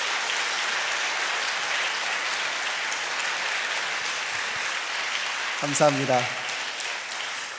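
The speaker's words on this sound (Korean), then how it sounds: "박수 한번 드리겠습니다." A Korean church congregation in Detroit gives sustained applause in a dense, even roar of clapping. Near the end a voice briefly speaks over it.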